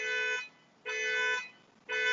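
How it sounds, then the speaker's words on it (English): A car alarm sounds at a car dealership: three steady electronic tones repeat in an even on-off rhythm, each lasting about half a second with short gaps between them, clear and alone with no talking. "so ignore the car alarm"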